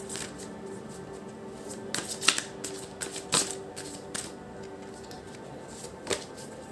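Tarot cards being shuffled and handled up close, a soft continuous riffling with sharper flicks and slaps scattered throughout, quiet and without talk.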